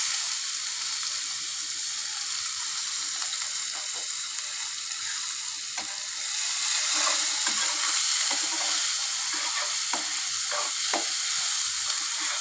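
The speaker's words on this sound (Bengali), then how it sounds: "পেঁয়াজটা আমি একটু ভাজা ভাজা করে নিচ্ছি।" A handful of chopped onions frying in a pan over cumin seeds for a potato and river-fish curry, giving a loud continuous hiss and sizzle with occasional stirring scrapes.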